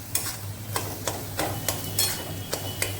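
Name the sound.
jackfruit seeds frying with salt and turmeric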